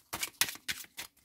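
Tarot cards drawn from a deck, four quick papery swishes in an even rhythm, close and fairly quiet with short gaps between.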